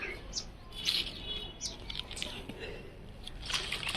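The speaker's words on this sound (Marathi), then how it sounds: "चिमणी पण आली आपल्या इथं।" A sparrow chirps near a home kitchen, giving short, bright chirps scattered over a low background of noise.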